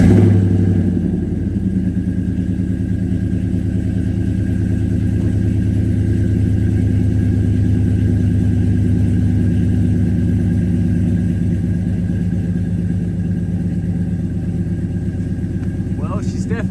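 A vehicle nicknamed Shorty runs through its first startup, idling quietly through its muffler with a steady low rumble and fine rhythmic clatter that stays even throughout, close by and with no one talking.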